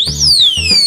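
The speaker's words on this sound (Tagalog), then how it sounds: "pag tinap ko to malamang-lamang, 10 seconds na naman na alarm to" A motorcycle alarm disc lock on a Sniper 150 gives out a loud, piercing electronic siren that sweeps up and then down in pitch, close and alone, with a pulsing undertone.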